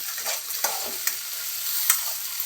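Onion frying with tomato paste and ginger-garlic paste, a steady close sizzle broken by several sharp scrapes and clacks of a spatula stirring the pan, with no voices.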